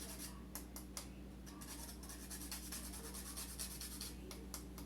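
Nutmeg is grated over spinach in quick, soft rasping strokes, faint and close, with no talking.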